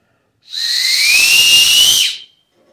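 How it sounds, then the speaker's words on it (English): A 3D-printed whistle gives one loud, steady high-pitched blast lasting about a second and a half, rising slightly in pitch with breathy hiss, then stops cleanly. "So this whistle works."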